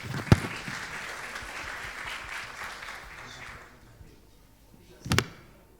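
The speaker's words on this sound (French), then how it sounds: "Bravo, applaudissez Khalid" Audience at a toxicology congress applauding a young emergency doctor, a brief round of clapping that fades out, bracketed by a sharp knock at the start and another near the end.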